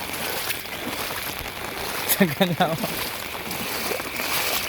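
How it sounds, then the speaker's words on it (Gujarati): Heavy rain falls in a steady, dense hiss that fills the whole stretch, with a brief burst of a voice partway through. "આજે વરસાદ એટલો પડ્યો છે ને"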